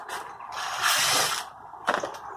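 An impact driver drives old screws while fitting a polytunnel door on a small farm, giving two quick close rattling hammering bursts, the longer one first and a brief sharp one after a pause.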